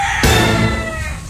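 A close, loud chicken vocalizing, a sudden harmonic squawk with throaty clucking tones that trails off.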